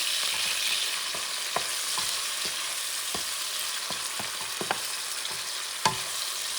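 Sofrito for Puerto Rican mondongo tripe soup fries in a pot with a constant bright sizzle, while a spoon stirring it adds scattered clicks and scrapes, up close with no voices.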